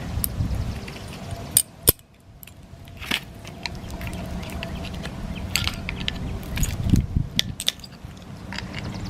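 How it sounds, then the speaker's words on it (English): Old front brake hardware clips being pried out on a Toyota Corolla with a tool, close metallic scrapes, clicks and snaps scattered irregularly over low workshop ambience. "pry out the old hardware"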